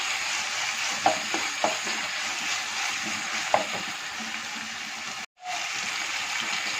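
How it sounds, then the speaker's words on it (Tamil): Tomato, onion, ginger and garlic sauté in a pan with a continuous loud sizzle, broken by a few sharp stirring scrapes and one brief dropout. "அது இந்த தக்காளி வெங்காயம்லாம் நல்லா வதங்கிறதுக்கு இந்த இஞ்சி பூண்டை நம்ம சேர்த்துட்டோம்னா அது சீக்கிரமே வதங்கிடும்."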